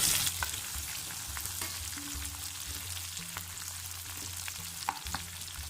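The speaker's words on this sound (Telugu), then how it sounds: "వేరొక కడాయిలో మసాలా దినుసులు వేసి బాగా వేగాక ఆనియన్ పచ్చిమిర్చి వేసి బాగా ఫ్రై చేసుకోవాలి" Spices, onion and green chilli fry in a kadai with a steady close sizzle, while occasional clinks and scrapes of a stirring utensil come through at a moderate level.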